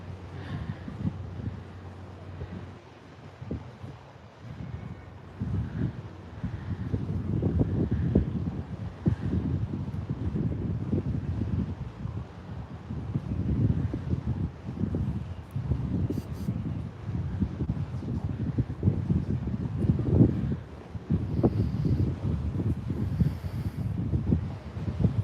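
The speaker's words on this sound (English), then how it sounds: "It's a little windy out here." Wind gusting across a boat deck in Bergen, Norway, a steady low rumble with buffeting surges on the microphone that swell and ease throughout, with no clear talk.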